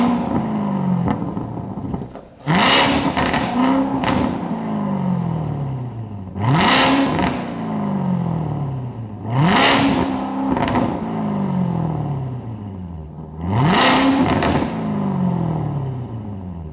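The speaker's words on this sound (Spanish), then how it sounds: "un enorme y viejo V8 sobrealimentado que desemboca en la parte trasera a través de 4 salidas de escape" A supercharged V8 Corvette ZR1 with a centrally mounted quad exhaust revs hard four times, each blip rising sharply to a loud snarling peak then falling back to a rumbling idle, close and alone.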